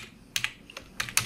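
Several quick keystrokes tap on a computer keyboard in short clustered bursts with brief pauses between them, close and crisp, no voices.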